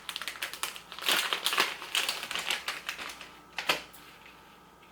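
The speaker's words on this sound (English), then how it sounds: "I have to open the bag up." A plastic bag holding a micro brush cleaner is torn open while lash orders are packed, giving a close run of sharp crinkling and crackling bursts that fade into a few softer rustles.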